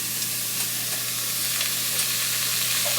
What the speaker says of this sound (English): now you need to put the meat in the pan first